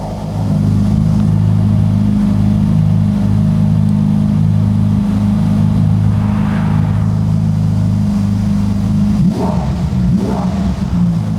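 A Ferrari sports car engine of about 700 horsepower idles with a deep, steady rumble for several seconds, then gives a couple of brief throttle blips near the end.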